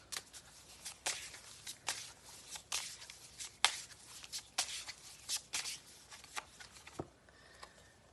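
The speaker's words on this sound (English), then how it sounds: "Let's get a card for Erin." Tarot cards shuffle and get drawn in quick, uneven riffling bursts, each one a brisk papery flutter heard up close and alone, ending in a short pause.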